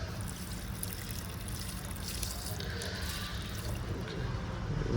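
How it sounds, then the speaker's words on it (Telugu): Water poured from a container onto a potted rose plant that also holds coriander and mint, a steady close trickle and splash running throughout with no talking. "నీళ్ళు పోద్దాం."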